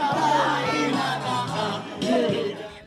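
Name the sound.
joyful cheering and singing crowd at New Year celebration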